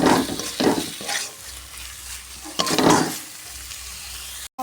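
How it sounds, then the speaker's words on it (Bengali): Deboned rohu belly pieces frying in a pan, a close sizzle broken by several loud scraping stirs, with the hiss settling between strokes before cutting off abruptly. "মাছটা দিয়ে দিলাম, দিয়ে ভালো করে কষিয়ে নিতে হবে"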